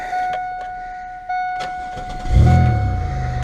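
A Pontiac Grand Prix GT engine cranks and catches at about 2.3 seconds, then settles into a loud, steady idle close by after a few quiet clicks and a faint whine.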